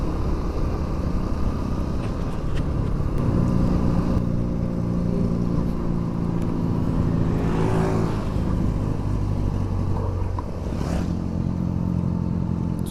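Cars and traffic on a winding mountain road toward Lake Toba, heard from a motorcycle on a solo tour; a steady engine and road rumble with a couple of louder vehicles sweeping past around the middle and near the end.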